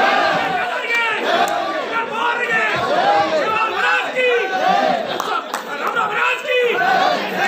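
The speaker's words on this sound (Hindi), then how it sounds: "जोरदार तालियां" An awards ceremony crowd breaks into loud, continuous cheering and shouting, with applause mixed in under raised voices and excited chatter throughout.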